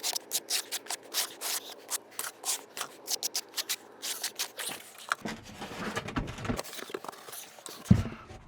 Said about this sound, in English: Want to do directional troweling, basically having all the ridges in the same